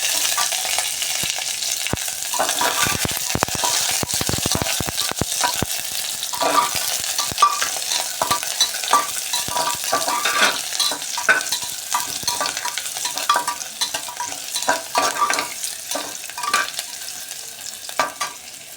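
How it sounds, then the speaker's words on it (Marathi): Steady crackling sizzle of onions frying in a hot pressure cooker with whole spices and cumin, with occasional clinks and stirring scrapes throughout. "हा कांदा थोडासा भाजायला सुरुवात झालेली आहे"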